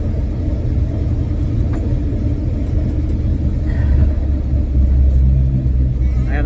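A car with a big cam and a drilled throttle body drives along, its engine a steady low rumble that swells slightly near the end as it slows in fourth gear; a voice talks faintly over the drone.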